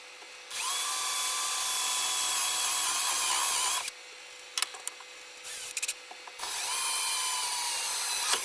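A power drill whines steadily in two long runs, separated by a pause filled with clicks and small knocks. It sounds close and loud.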